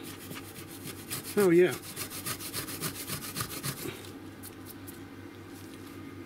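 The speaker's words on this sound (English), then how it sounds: "So I'm going to give it a go with the Scotch-Brite first." A Scotch-Brite pad scrubs a Mac Tools P301781 tool found at a flea market. The close, rhythmic rasping strokes repeat steadily, and a man briefly exclaims once partway through.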